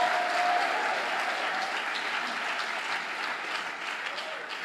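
Congregation in a church applauding loudly and continuously, a dense steady wash of clapping that fills the room from start to finish.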